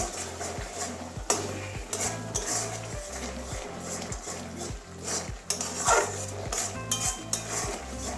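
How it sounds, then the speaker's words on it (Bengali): Spice masala for a Bengali pointed gourd curry being stirred and sautéed in a pan: a steady, regular rhythm of scraping spatula strokes, about two per second, close and prominent over a soft sizzle, with no talk. "ভালো করে কষিয়ে নেব মশলা কষানো হয়ে গেছে"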